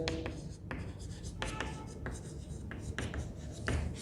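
Chalk or marker scratches and taps on a classroom board as a teacher writes Sanskrit, short strokes in irregular bursts, close and moderately loud over a low room hum with no talk.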